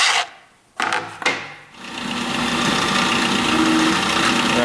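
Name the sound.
drilling through a wooden board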